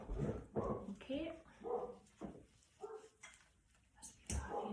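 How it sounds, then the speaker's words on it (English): Dogs barking outside, heard indoors over a person speaking nearby: repeated muffled barks and yips at moderate distance, mixed with the voice throughout. "Now you see why I've put my dogs out, you hear them barking."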